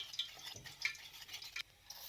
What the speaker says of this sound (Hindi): इस तरह आपने मुसलसल चम्मच हिलाना है और फ्लेम को बिल्कुल लो रखना है।